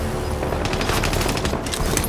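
Sustained automatic gunfire in a battle royale shooter game, dense rapid bursts of shots that stay loud and continuous without any voices.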